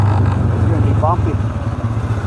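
A four-wheel-drive vehicle rumbles along a bumpy track on a cold morning, a loud low engine drone close by with uneven jolts, and someone talking over it.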